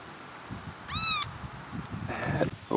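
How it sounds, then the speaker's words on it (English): A three-week-old kitten gives a high, thin meow, then a second fainter, rougher meow follows amid low rustling and handling noise close to the recorder. "Beautiful baby kitty."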